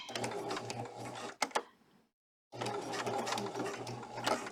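A sewing machine stitches a stuffed weighted Santa project in a steady, whirring run, stops for about a second, then starts stitching again at the same even pace.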